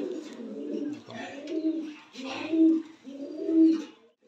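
Fancy pigeons, including American and Holland Jacobin breeds, coo inside a loft: close, throaty rolling coos in about four repeated phrases, with no talk.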